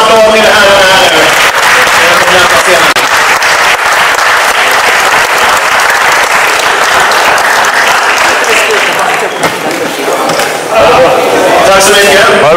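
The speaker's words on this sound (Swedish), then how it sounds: "Och vi ger kvällens sista applåd till herrarna här nu." Loud, sustained applause from an audience fills the hall as the men's over-180 cm category is honoured at the Swedish Athletic Fitness Championship 2013, steady clapping and crowd noise throughout with a slight dip near the end.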